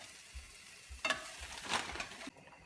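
Cheesy eggs frying and being stirred in a pan, more scrambled than fried, giving a soft steady sizzle with a couple of louder scraping bursts before it drops away.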